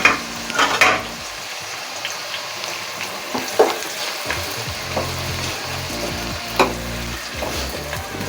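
Onions frying in a pan for a Bangali gosht curry sizzle loudly and are stirred, with clattering scrapes in the first seconds and at intervals, with no talking.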